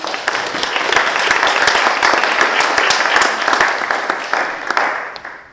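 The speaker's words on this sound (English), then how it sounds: "please give her a round of applause" An audience claps for a speaker on African American history in western North Carolina, a strong, continuous round of applause from many hands that holds steady, then tapers off near the close.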